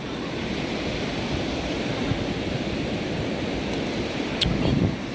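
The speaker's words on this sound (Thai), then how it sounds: "คลื่นแรงด้วยนะ" Steady roar of strong surf and wind in rain at a Chanthaburi beach, Thailand, a continuous rushing wash of waves with no voices, loud and unbroken throughout.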